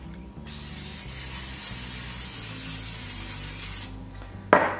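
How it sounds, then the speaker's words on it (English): Cooking spray hisses continuously under pressure for several seconds onto the bottom of an air fryer basket, then cuts off, followed by a short clunk. "spray the bottom of my air fryer."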